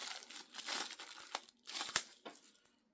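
Plastic wrapping on a Swiss Safe 2-in-1 first aid kit crinkles in a series of close, irregular crackles and rustles, with short bursts separated by brief quiet gaps.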